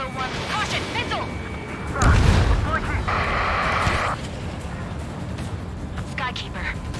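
Incoming missile attack during an Ace Combat 7 dogfight against an SU-30: a heavy boom and roar of engine and blast noise, with a sustained warning tone, under radio chatter.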